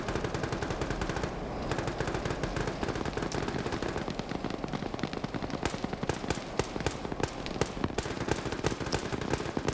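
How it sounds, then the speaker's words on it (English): Sustained machine-gun fire from a Huey helicopter strafing a coastline in a multiplayer war video game, dense rapid bursts rattling loudly and continuously with sharp cracks and explosions mixed in. "Huey now strafing some of the coast here to try to help stop the Green 4 advance"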